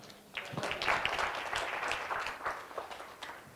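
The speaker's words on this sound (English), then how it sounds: "Give this guy a hand clap." Audience applause at a bias crime symposium for community partners, a moderate, fairly distant burst of many hands clapping that holds steady for a few seconds, without speech.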